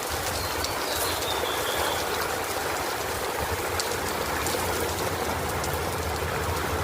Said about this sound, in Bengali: হঠাৎ করে বৃষ্টিটা নামছে,